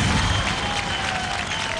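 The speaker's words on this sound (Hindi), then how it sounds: "जोरदार तालियों से स्वागत कीजिए रांची के प्रत्यूष का।" Loud applause from a studio audience welcomes a talent show contestant from Ranchi, a brief dense wash of clapping and crowd noise filling the moment.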